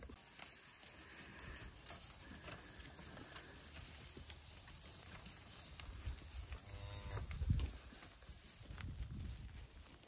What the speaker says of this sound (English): we'll take a look at the cows